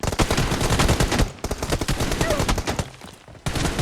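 Rapid machine-gun fire in the battle-royale shooter PUBG Mobile: loud, sustained automatic bursts close by, with a brief pause and another burst near the end.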